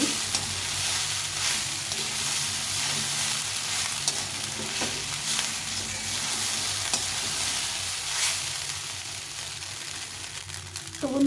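Vegetable chira pulao with peas frying in mustard oil sizzles steadily up close, with occasional spatula stirring and scraping through the whole stretch.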